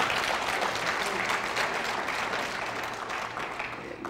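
An audience at a UFO and national security lecture breaks into sustained, dense applause, a continuous wash of many hands clapping at even loudness that tapers only slightly toward the close.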